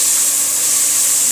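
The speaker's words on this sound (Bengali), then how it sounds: "এই যে আদা রসুন দিলাম" Ginger and garlic hit hot oil in a pan, giving a steady, fairly loud sizzling hiss that holds evenly through the short moment with no voices.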